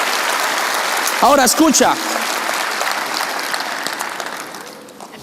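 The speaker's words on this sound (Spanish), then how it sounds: "Vamos, dale un aplauso al amor de Jesús." Church congregation applauding during a sermon, a dense wash of clapping running steadily through the whole stretch, with a voice briefly speaking over it near the start before the applause slowly thins toward the end.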